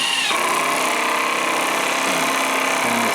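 A Milwaukee M12 Fuel 12-volt cordless 1/4-inch hex impact driver runs continuously with a loud, steady, high-pitched whir and rattle, its tone shifting slightly partway through, close up.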